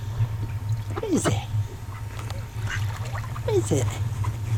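Ducks on the Broads give two short bursts of quacking nearby over a low steady hum, with people talking in between.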